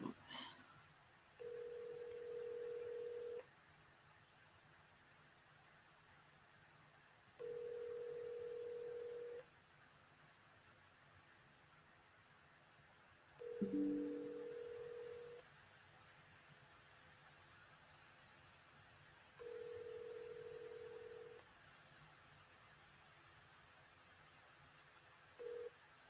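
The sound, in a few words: telephone dialing tones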